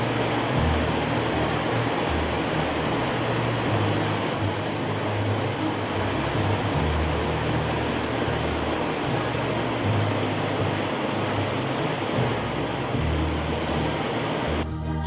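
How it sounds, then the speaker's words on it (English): Tangle Falls, a 114-foot multi-tiered waterfall in Canada beside a highway, pours as a steady, dense roar of falling water, loud and unbroken throughout with no voices. "Several smaller cascades near the top of this 114-foot waterfall come together into a single stream that plunges over 3 additional tiers."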